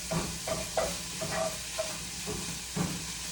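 Italian sausage sizzles in a pan under a soft, steady frying hiss, with several brief scraping stirs spaced through it, fairly quiet and close.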